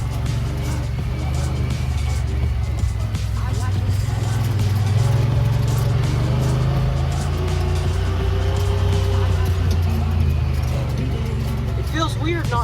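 A 2022 Honda Pioneer 1000-5 side-by-side drives along a messy trail, its engine a steady, loud rumble that holds throughout with slight swells, while someone talks over it.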